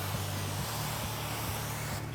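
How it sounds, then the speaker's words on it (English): Continuous hissing spray of cleaner onto car paint at close range, steady for about two seconds before cutting off. "I wanna spray towards me"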